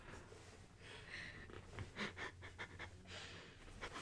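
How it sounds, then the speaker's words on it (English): A faint, close breathy sound with a few short nasal sniffs and snorts, quiet and alone with no speech. "You took such a big sniff."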